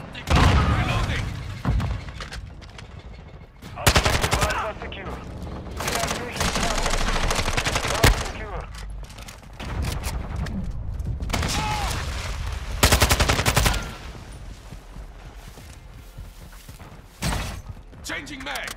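Heavy automatic gunfire in the Call of Duty MWII beta, repeated loud bursts and sharp shot clusters with pauses between them, close and intense, mixed with in-game voice callouts.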